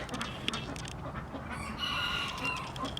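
Chickens in breeding pens cluck and call continuously at moderate distance, with a rooster's crowing rising partway through amid a busy barnyard background.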